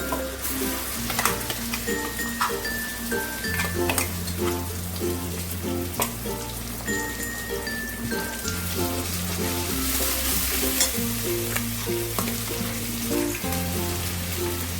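Prawn, poppy-seed and green chilli paste fries with onion in a pan, a steady crackling sizzle with stirring scrapes, while music plays throughout.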